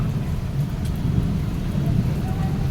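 Rain falls outdoors on people standing in it, a steady dense low hiss that runs without break for the whole moment.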